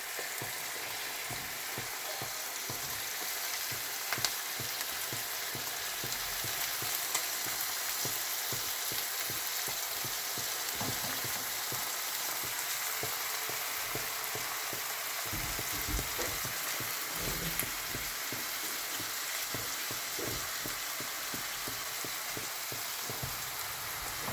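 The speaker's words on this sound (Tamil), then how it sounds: "இப்போ நாம் இதை கொஞ்ச நேரம் நல்லா சாட் பண்ணிடலாம்" Three finely chopped medium tomatoes sauté in a pan for coriander tomato chutney, giving a steady, close sizzle that runs continuously with faint stirring scrapes and no voices.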